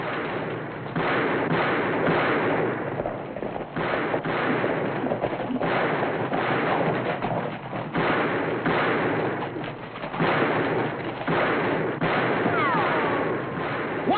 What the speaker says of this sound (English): Which way you shooting, Jason?